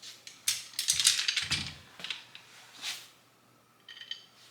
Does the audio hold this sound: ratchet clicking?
yes